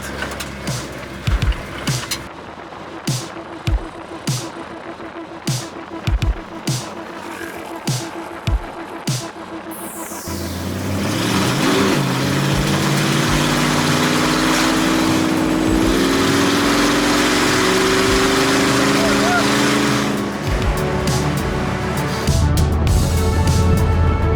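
Scattered clicks and thumps give way to a steady roaring vehicle motor running on asphalt, loud and close, with a rising whine as it speeds up.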